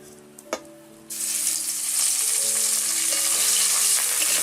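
Ground spice paste for raw banana kofta curry drops into hot oil after a quiet moment and a single clink, bursting into a loud continuous sizzle that keeps crackling steadily at close range, without speech.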